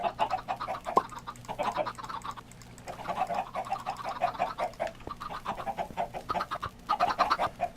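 Chickens in a Minecraft-style block-building video game cluck in a steady, overlapping stream of short, clipped calls, with no voices over them.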